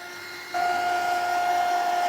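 A heat gun switches up to a louder steady whine partway through while drying a winter-themed mixed-media craft piece, a constant close blowing hum with a high tonal note.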